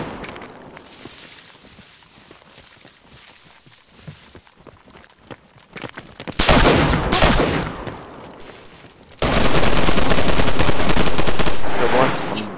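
Mosin rifle fire in the video game DayZ: scattered faint shots and footsteps at first, then two long, loud, close bursts of heavy gunfire.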